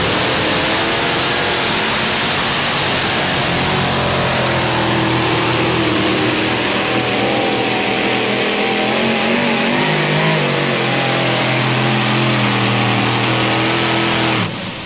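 A mini modified pulling tractor roars at full power during a tractor pull, a loud, sustained engine howl whose pitch bends and climbs continuously, cutting off abruptly at the end.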